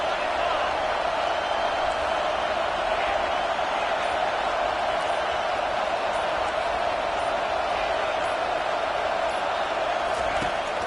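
Stadium crowd at a football game roaring steadily behind the defense on a big third down, a dense, continuous wash of cheering and noise that holds at high level throughout.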